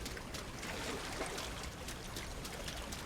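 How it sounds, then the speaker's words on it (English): Footsteps splashing through shallow water in a first-person shooter, a steady wash of loud sloshing and trickling close by with no pauses. "I upped the volume there so you can hear the water."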